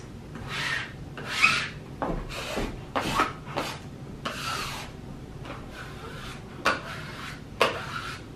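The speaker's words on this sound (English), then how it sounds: "Now I'm just gonna stick it on by rubbing this" Hand rubbing presses a handmade craft item onto a surface in a series of short, close scraping strokes, each a brief dry rasp with pauses in between, quiet and alone.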